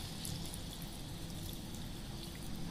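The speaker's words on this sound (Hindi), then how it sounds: "आपकी झोल रखे से अनुसार पानी देवे" Water poured into a pot of mutton curry (mutton jhol with potatoes) on the stove, a steady close liquid hiss and trickle running evenly through the whole moment.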